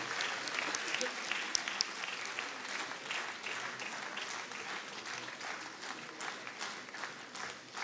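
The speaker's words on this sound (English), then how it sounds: "Let's keep on clapping for them because they are our eminent jury members." An audience at the International Nepali Film Award ceremony claps for the jury members, a dense sustained round of applause filling the hall without pause, with voices mixed into the crowd noise.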